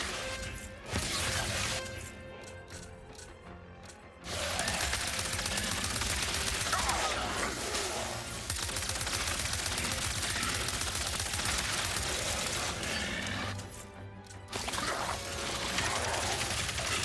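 Rapid gunfire from a weapon in the Ratchet and Clank video game, a loud, dense, continuous barrage with crashing impacts that runs almost unbroken, with only brief lulls near the start and end.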